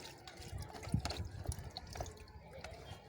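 Water is poured off settled fufu paste in a kitchen, with soft splashes, drips and trickles that run on faintly for a few seconds.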